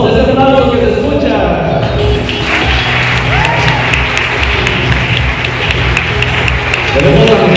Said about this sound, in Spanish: Y ahora con un fuerte aplauso vamos a recibir a la persona más importante de la tarde.